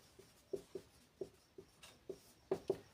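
Writing out the hemisphere volume formula by hand, a quiet series of separate short scratching strokes, about eight or nine, spaced irregularly and heard alone.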